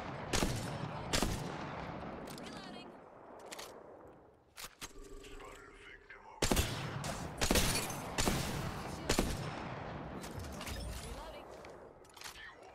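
Longbow sniper rifle in Apex Legends fires a series of sharp, loud, widely spaced shots with bolt-action clatter between them, under a player's speech.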